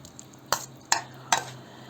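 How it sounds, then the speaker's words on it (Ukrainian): Vegetables with ground hot red pepper being stirred for canning: three sharp, evenly spaced scraping clacks of a utensil in a pot over a faint low sizzle, close and alone. "Зараз оце все перемішую, залишаю його, воно вже юшечку пускає."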